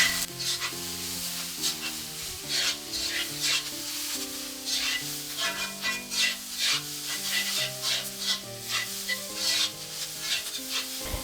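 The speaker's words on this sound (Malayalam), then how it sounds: "ഇപ്പോൾ ഇതിലേക്ക് പച്ചമുളകും കറിവേപ്പിലയും ചേർത്ത് കൊടുത്തിട്ട് ഇളക്കുകയാണ്." Onions, green chillies and curry leaves frying in a pan for chicken pepper fry, stirred with a spatula in rhythmic scraping strokes over a steady close sizzle, while soft background music plays.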